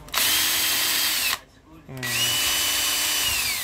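A cordless hammer drill whirs loudly at steady speed, cuts out briefly, then spins back up and runs on continuously, close by with no talking.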